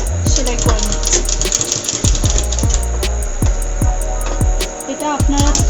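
A sewing machine stitches the neckband of a baby top, its needle thumping in a fast, steady rhythm close by, with a constant electrical hum underneath.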